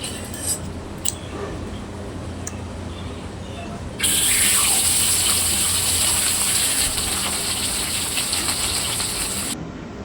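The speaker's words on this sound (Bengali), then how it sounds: "এরপর মাছগুলো একটু কড়াভাবে ভেজে নিতে হবে।" Tilapia fish pieces deep frying in hot oil, first a soft low bubbling with a few clinks, then a loud, steady, dense sizzle that jumps up suddenly and holds to the end.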